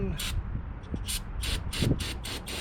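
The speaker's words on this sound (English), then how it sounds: "I'm gonna just spray some fluid" Starting fluid sprayed from an aerosol can into the engine of a 1974 Ford 3550 industrial tractor, a series of short, sharp hissing bursts, several in quick succession, close and fairly loud over low background rumble.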